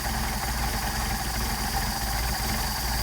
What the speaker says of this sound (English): Now you can hear the engine degrading, the idle degrading.